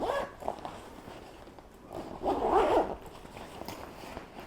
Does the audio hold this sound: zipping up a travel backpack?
yes